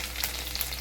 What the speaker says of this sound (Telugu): వెల్లుల్లిపాయలు వేసుకుందాం.